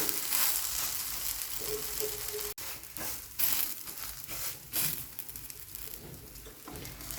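Small pancake-style batter cakes fry on a large hot pan or griddle, three or four at a time, giving a steady close sizzle and crackle with brief scraping and stirring touches throughout.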